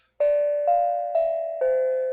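A small handbell is struck four times in an even rhythm, each clear ringing tone sustained until the next strike, loud and close with no talking.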